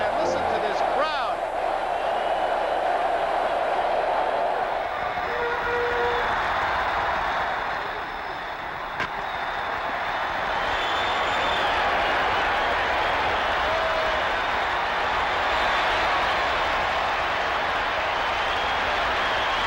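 Roaring crowd at a 1980 World Series Game 3 baseball stadium in Kansas City, a broad sustained wash of cheering that swells and holds for the whole stretch, with an announcer's voice over it.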